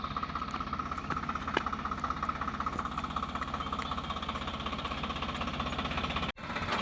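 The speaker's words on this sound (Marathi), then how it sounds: "म्हणून पण आज ट्रॅक्टर चालवलं थोडंसं" A tractor engine runs steadily as it drives along a farm road, a continuous loud low chugging rumble with a rhythmic knock, briefly cutting out near the end before resuming.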